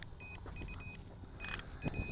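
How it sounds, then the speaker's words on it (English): An SJRC S70W GPS camera drone returning home gives faint, repeated high beeps in short bursts, heard outdoors over light wind and background noise. "It beeps as it comes back."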